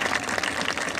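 Audience applause at a live music ensemble show, a dense, even wash of many hands clapping that holds steady for about a second.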